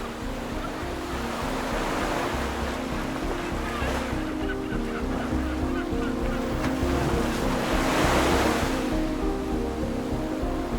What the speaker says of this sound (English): This exposed coastline gets battered by waves born as far west as Japan, traveling thousands of miles across the Pacific to crash up here